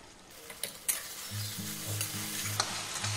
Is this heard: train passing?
no